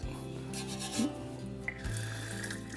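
A brass brush scrubs a wet terrazzo floor, the sound a soft, close, rasping rub with faint water sounds and no talk.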